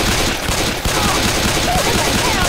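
Dense, rapid gunfire rattles on continuously from a shooter video game, loud and close, forming an unbroken clatter of shots with a brief dip partway through.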